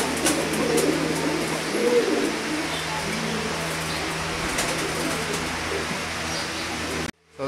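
Caged pigeons coo steadily at a bird market, a low continuous murmur of many birds under a busy, noisy background with some faint talk.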